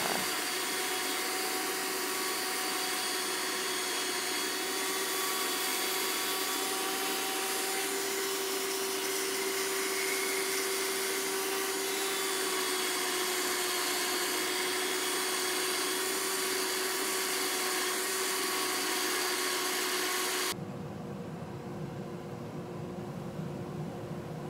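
A woodturning lathe hollows the inside of a resin and wood bowl with a carbide tool, giving a loud, steady whirring grind that runs unbroken for about twenty seconds before cutting off into quieter background noise.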